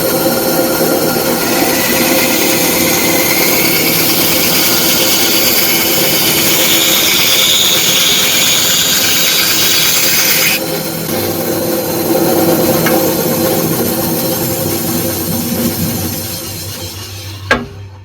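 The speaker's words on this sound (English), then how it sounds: "I can take them over to the bandsaw." A bandsaw cuts through a stack of four screwed-together wooden boards shaped into bunny silhouettes, a loud steady whine with rough cutting noise that shifts in tone midway, then the motor winds down to a thump.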